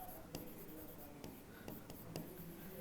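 Pen writing on paper while noting the principle of an erythrocyte sedimentation rate test in a hematology lab, with soft scratchy strokes and a few sharp taps, close and quiet, faint talk in the background.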